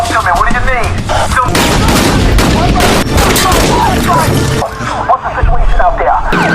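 Gunfire in a film shootout plays as loud, rapid bursts of shots and booms that crowd together with scattered impacts, mixed with voices and a brief lull near the end.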